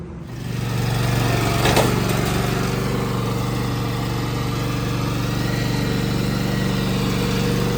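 A 46-inch Cub Cadet riding lawn mower engine runs steadily at a loud, even drone with a constant low hum that stays unbroken throughout and has no voices over it.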